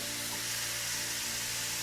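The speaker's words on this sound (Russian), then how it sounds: "И будем пассеровать еще минуту овощи вместе, помешивая." Soft, steady sizzling of vegetables with grated cucumbers sautéing in a frying pan, a continuous gentle crackle with no talking.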